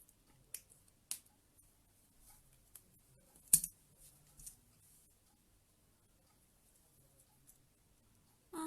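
Sharp wire snips cutting excess wire on a small handmade suncatcher, a few crisp clicks spread across a quiet workspace, the loudest cut near the middle, with faint handling sounds in between.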